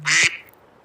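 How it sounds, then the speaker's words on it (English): A phone alarm set to a duck quack sounds once, a single loud, nasal quack close to the mic that cuts off quickly into quiet room tone. "That's my alarm. The duck."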